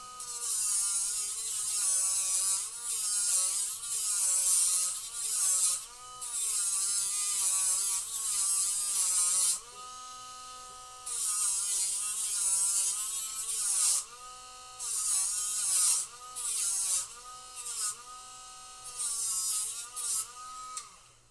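A Dremel rotary tool fitted with a steel wire brush buzzes steadily at close range, its high whine dipping and rising in pitch as it bears on the work, with a few short breaks.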